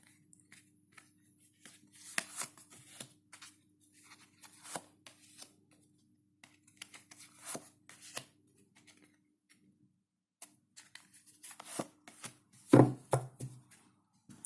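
A deck of tarot cards is shuffled by hand in quiet, uneven bursts of soft flicking and riffling, close and faint, ending in a louder clatter and with no talk.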